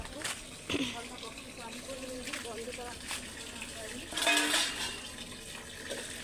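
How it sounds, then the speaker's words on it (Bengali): Water gushing from a household tap in a yard, a steady broadband rush running throughout, with voices talking over it. "কলে জল যাচ্ছে"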